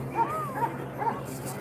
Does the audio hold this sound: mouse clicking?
no